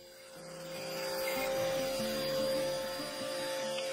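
A bandsaw cuts through a clamped wooden bowl blank, a steady whining machine hum that swells as the blade bites into the wood. It is close and continuous for about four seconds.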